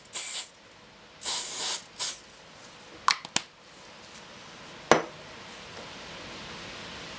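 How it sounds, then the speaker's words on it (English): Short hissing bursts of glue activator sprayed from a can during a maintenance repair, three broad spray blasts followed by a few sharp clicks and taps, close and fairly quiet. "Give it a bit of a spray with the activator."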